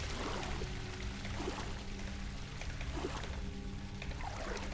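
A waterfall in an adventure video game makes a steady, dense rushing roar of falling water, broadband and continuous, with faint game tones underneath.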